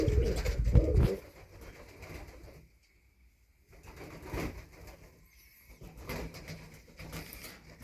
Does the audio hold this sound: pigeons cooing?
yes